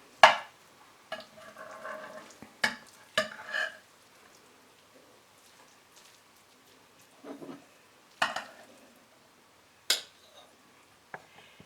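A spoon stirs a gluten-free, dairy-free stuffed bell pepper casserole, mixing the dry top into the moist bottom, with several scattered scrapes and clinks against the dish, fairly faint, with quiet stretches between.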